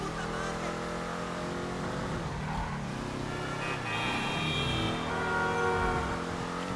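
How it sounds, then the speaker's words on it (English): A racing car's engine in a GTA 5 Online race, boosted off curbs, drones and surges continuously with revs climbing and falling, loud throughout, while a voice talks over it. "you can hear it sort of the engine increasing revs"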